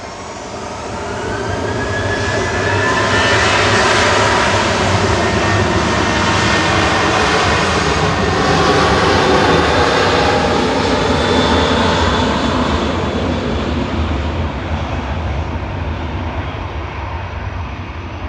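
A 24-year-old Jet2 Boeing 737-800 departs Manchester Airport for Ibiza, its jet engines building into a loud, broad roar that holds steady for many seconds and then slowly eases off.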